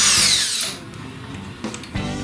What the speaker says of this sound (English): I'm going to drill these first 2 holes